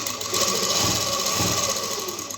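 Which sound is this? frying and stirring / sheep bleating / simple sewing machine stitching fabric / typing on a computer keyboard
simple sewing machine stitching fabric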